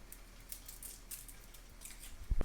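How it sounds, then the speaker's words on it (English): Fresh garlic is snipped into hot olive oil in a home kitchen, giving a few faint, scattered clipping ticks over a quiet, steady background hiss. "we're going to cut some garlic in there"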